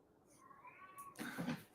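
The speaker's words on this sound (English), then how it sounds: "I can hear my cat doing a little cry down here." A cat gives a faint, drawn-out meowing cry, followed by a slightly louder, rougher wail, heard from a little distance in a quiet room.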